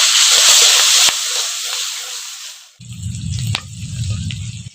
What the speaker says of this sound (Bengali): কালো জিরের সাথে হাফ চামচ হলুদ গুঁড়ো দিয়ে দিচ্ছি, আর দিয়ে দিচ্ছি পেঁয়াজ কুচি। পেঁয়াজটাকে একটু ভালো করে ভেজে নেব।